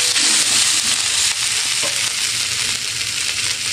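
Loud, close sizzling of curry ingredients and dried bay leaves being stir-fried in a pan, a continuous bright hiss with light stirring clatter.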